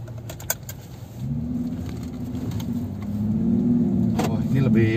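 A Jeep JK engine fitted with an aftermarket air intake idles and then revs up, its low drone swelling louder toward the end, with a brief clink early on and some faint background voices.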